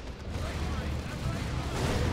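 Rumbling artillery barrage in the Dawn of War 2: Retribution strategy game, a dense continuous wash of low booms and blasts at steady loudness with no clear gaps, over a busy battle backdrop.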